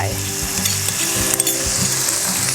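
Pork stir-frying in a wok with a seasoning sauce, a steady close sizzle with spatula scrapes and stirring knocks running throughout, no voices.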